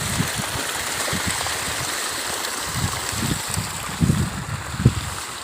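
Irrigation water from a pump rushing through a channel in a farm field, a steady, close, broadband gushing flow with low gurgles and a faint engine-like hum beneath, no voices.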